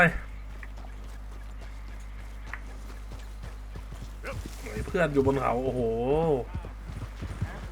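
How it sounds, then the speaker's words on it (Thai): A horse gallops in Red Dead Redemption 2, its steady clip-clop of hooves running under a low game drone while someone talks over it, his voice rising later. "ขี่ม้าก่อนขึ้นมาขึ้นมาไป"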